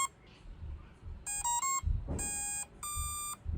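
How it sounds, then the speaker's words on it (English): Two pairs of electronic beeps from an electric surf fin powering on sound, clear and close: a short double beep, then a longer two-tone pair after a pause, over faint handling noise. "You need to hold it for the second beep so you know it's on."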